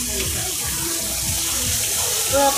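An automatic water fountain splashes at a fun park in Nepal, a continuous rushing wash of falling water heard close by, with a voice talking over it.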